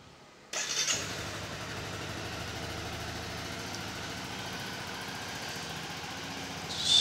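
A 2018 Honda CBR 250R motorcycle engine cranks and catches after a short quiet moment, then settles into a steady, close idle that runs alone until the end.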